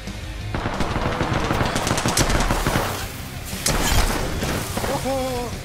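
Gunshots in the video game Apex Legends, dense rapid automatic fire with sharp cracks and a few heavier impacts, loud and close, while a voice speaks over the action.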